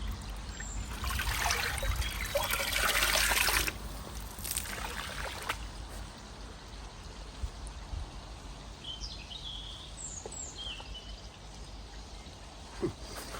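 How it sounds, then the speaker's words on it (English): Fresh water is poured into a koi pond, giving a steady splashing trickle for a few seconds before settling into quieter outdoor ambience with faint birdsong. "put some fresh water in."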